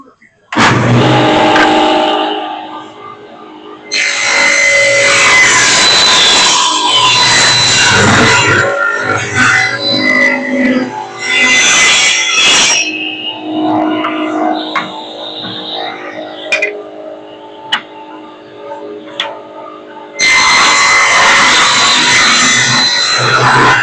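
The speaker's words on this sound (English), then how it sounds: "we're going to start ripping this material down into 3/4 inch square pieces" Table saw ripping wood stock into 3/4 inch square strips for a wooden door mat, loud sustained cutting bursts that whine and bog, separated by quieter stretches with people talking.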